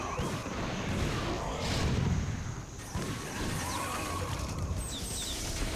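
Terran siege tanks firing in a StarCraft match between Terran and Protoss on the Twilight map, producing a dense run of heavy booming blasts and crashes at a moderate level throughout.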